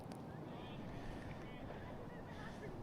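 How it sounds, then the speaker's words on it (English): Gusty night wind at a cricket ground during a women's Division 2 match, a low, continuous rumble buffeting the microphone, fairly faint and steady with no clear breaks. "Another slightly windy night tonight."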